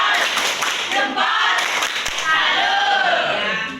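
Children in an Indonesian classroom maths lesson clap together in the tepuk salut routine, a dense run of brisk, close hand claps with young voices mixed in throughout.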